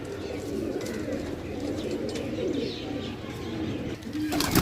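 Many loft pigeons at a rural dera in Pakistan coo and flutter together in a dense, continuous flock murmur, close by and steady throughout.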